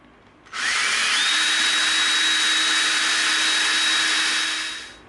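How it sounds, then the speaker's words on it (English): A power drill boring a pilot hole into an EVA foam prop blaster, spinning up with a rising whine into a loud, steady close-up whir for about four seconds before winding down. "Let's get a pilot hole started."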